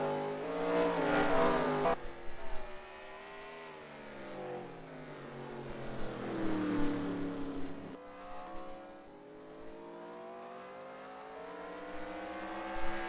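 Stock race cars circle the short Martinsville oval in a racing video game, engines droning and rising and falling in pitch as they pass, with a steady mid-level roar and no talk.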